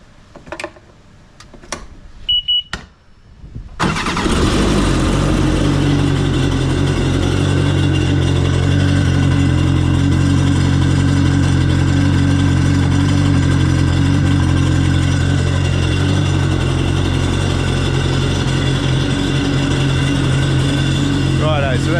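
A Kawasaki Ultra 260 jet ski engine, with a cracked cylinder head, starts after a few clanks and then runs loud and steady for about eighteen seconds, a close, droning idle with a rough edge.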